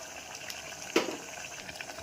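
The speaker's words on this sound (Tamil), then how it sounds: "கொஞ்சம் கொதிக்கட்டும்" Chana masala with soaked chickpeas and yogurt bubbles in a pan, giving soft, faint simmering pops and gurgles with one slightly louder burst in the middle.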